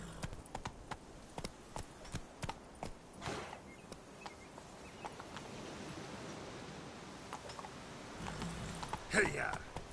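Horse hooves clip-clop at a steady walking rhythm while riding in the video game The Witcher 3, moderately close, with faint rustling and a short louder burst near the end.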